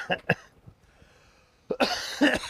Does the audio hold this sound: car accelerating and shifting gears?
no